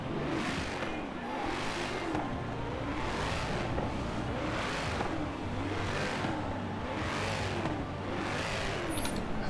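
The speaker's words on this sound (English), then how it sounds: "I'm just going to see how the engine sounds." A 1988 Holden VL Commodore Group A SV in Forza Horizon 4 revs repeatedly while stationary, the engine note rising and falling in a steady rhythm of about six loud surges.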